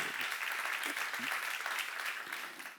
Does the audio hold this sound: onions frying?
no